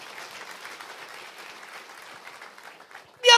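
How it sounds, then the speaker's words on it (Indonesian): A church congregation applauds with a soft, steady wash of many hands clapping, fairly distant and even, ending with a sudden loud burst at the close. "Boleh tepuk tangan bagi Tuhan kita."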